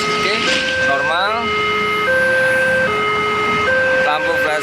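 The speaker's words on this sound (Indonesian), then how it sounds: "Sirine oke." Electronic warning siren at railway level crossing JPL 92A in Sukomoro, Indonesia, a steady two-tone wail alternating between pitches, loud and continuous throughout with some background noise and a brief chirping sweep.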